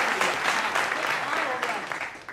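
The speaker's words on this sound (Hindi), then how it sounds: "जोरदार तालियां भाई" An audience at a political comedy show bursts into loud applause on cue, dense clapping running continuously at near-constant strength before thinning toward the close.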